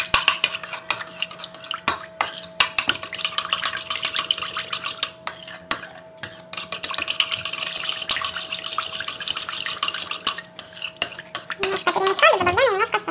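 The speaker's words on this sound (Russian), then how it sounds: "Добавляем наши дрожжи. Начинаем перемешивать." Yeast being stirred into sour cream thinned with boiling water for yeast dough, with a utensil scraping and clinking rhythmically against the bowl in quick repeated strokes, close and fairly loud, with a brief sloshing swirl at the end.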